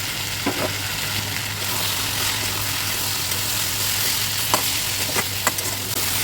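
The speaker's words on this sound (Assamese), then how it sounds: "চয়াবিনখিনি দি পেলাই অলপ মই ভাজিলোঁ।" Soybean chunks fry with spices, tomato and masala in a pan, a steady close sizzle broken by a few sharp stirring scrapes and clinks, with no voices.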